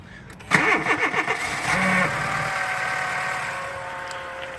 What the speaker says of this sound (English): I'll start the car for you as it's cold, and then you can hear it